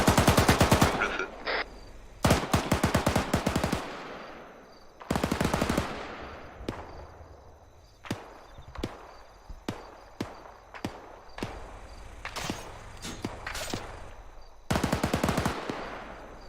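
Bursts of automatic gunfire and single shots in Arma 3, a cooperative military operation at a town checkpoint, with loud volleys at the start and end and spaced cracks in between, no voices.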